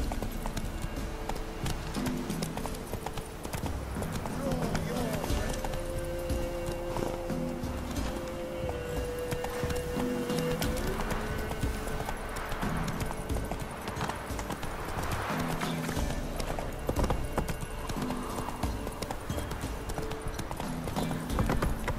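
A horse gallops in The Witcher 3: Wild Hunt, its hoofbeats drumming in a fast, continuous rhythm for the whole stretch over a steady bed of ambient game sound, with little talk.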